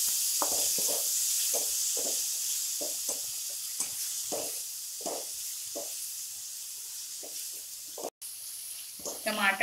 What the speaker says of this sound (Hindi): और इसमें हम टमाटर डालेंगे जिसे हमने बारीक काट लिया है और इसे हम एक मिनट तक कैनी सॉफ्ट होने तक भूनेंगे।